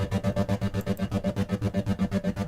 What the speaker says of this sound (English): Okay, so you hear the pan and you can adjust the rate, the amount, all that.